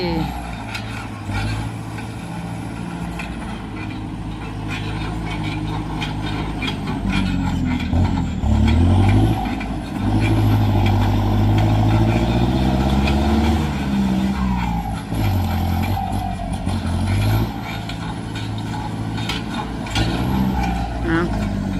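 Farm tractor engine running steadily and loudly, a deep continuous rumble with shifting tone as it revs, while people talk over it outdoors.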